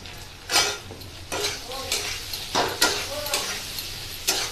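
Spoon scraping and stirring in a pan as salt and turmeric go into a hilsa fish curry with potato and eggplant, a few distinct scrape bursts over a faint background sizzle, close and moderately loud.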